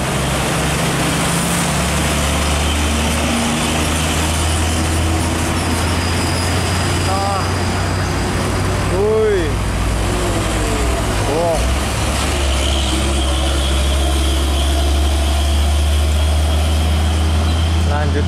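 A heavy trailer truck rumbles past on a road, with a loud, steady low engine drone and traffic noise throughout, rising and fading as the vehicle goes by.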